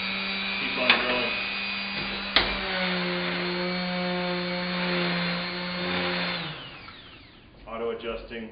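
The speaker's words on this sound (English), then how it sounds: "keep on drilling" A power drill whirs steadily at a high pitch for several seconds drilling wood clamped on a clamping table, with two sharp clicks near the start, then winds down as a voice speaks.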